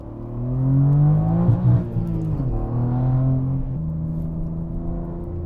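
Engine drone from a BMW G80 M3 heard inside the cabin while driving in M Dynamic mode with Dinan monoballs fitted, a loud, steady low hum that swells and shifts pitch as the car accelerates, with no talking.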